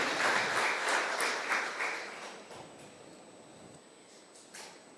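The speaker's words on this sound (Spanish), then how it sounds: "Y dele una ofrenda de aplauso a Él" A church congregation applauds loudly, then the clapping gradually fades away over about five seconds, with no talk over it.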